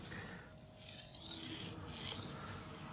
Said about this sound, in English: So I'm gonna do a stropping motion.